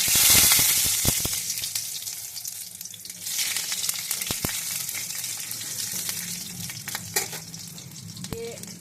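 Five-spice seeds tempering in hot oil for a mixed vegetable and prawn curry, a steady close sizzle with stirring clatter and a louder hiss in the first moments, no talk.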